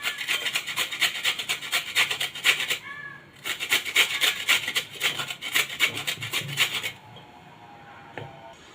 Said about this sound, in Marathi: आता मी याच किसणीवर बारीक किसून घेणार आहे। ही आपली आला किसायची किसणी आहे, आला लसूण किसायची, त्याच्यावर मी हा गाजर किसून घेणार आहे।